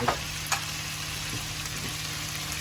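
Liver sautéing in a pan, a soft steady sizzle with a couple of sharp clicks near the start, quiet and close.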